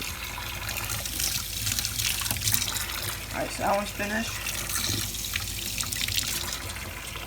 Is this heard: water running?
yes